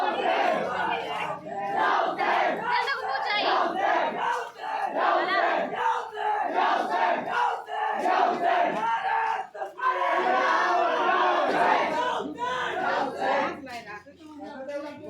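A large crowd chants religious slogans at a Muharram night gathering in loud, rhythmic bursts, many voices shouting together with brief pauses between calls.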